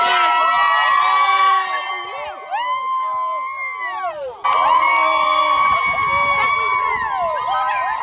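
A crowd cheers and shouts at a soccer playoff game, loud and close, with overlapping excited voices rising, dipping briefly, then surging again.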